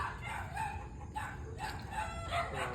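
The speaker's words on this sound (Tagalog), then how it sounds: "Pati yung mga manok nagpapaboses na." Chickens cluck and a rooster crows repeatedly nearby, several overlapping calls with no talking.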